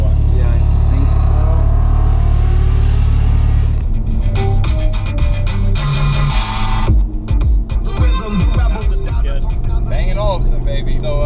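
Loud Audi R8 V10 sports car engine with strong low rumble, shifting into rising revs and pops partway through, with people talking over it.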